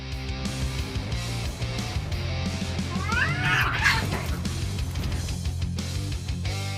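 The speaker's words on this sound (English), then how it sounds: "After a couple of warning signals, the cats have a fight." Cats fighting after a few warning signals, with loud yowls and caterwauls swelling into a sharp, scratchy burst of screeching midway, then trailing off over steady background music.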